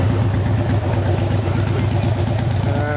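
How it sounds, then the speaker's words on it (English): A Harley motorcycle engine idles nearby at a seaside park, a steady low, throbbing rumble with an uneven pulsing beat that runs continuously and loudly without pause. "I think it's a Harley. Sounds like a Harley."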